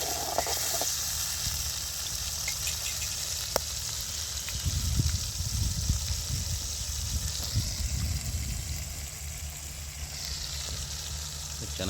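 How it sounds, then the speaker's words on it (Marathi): Tomatoes sautéing in hot oil in a pan for a home-cooked fish recipe, a steady broadband sizzle with low bubbling and occasional stirring scrapes, continuous and close throughout. "त्याला तांबाटी परतून घ्यायच्यात आपल्याला."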